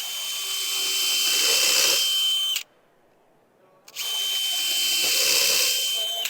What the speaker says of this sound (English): I'll drill into some Ipe here so you can see how well it performs